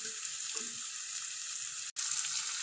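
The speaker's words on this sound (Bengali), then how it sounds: "পেঁয়াজটাকেও বিনস আর গাজরের সাথে হালকা ফ্রাই করে নেব" Chopped onion frying with beans and carrots in a pan for vegetable egg fried rice, a steady close hiss of sizzling oil with a brief cut partway through, no voices.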